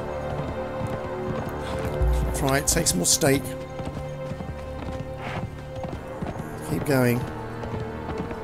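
Horse hooves clip-clopping at a run in the snowy wilds of the video game Conan Exiles, a steady galloping patter under continuous talk, with brief creaks and thumps mixed in.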